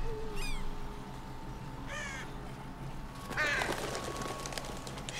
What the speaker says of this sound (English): Get out of here, pesky crows.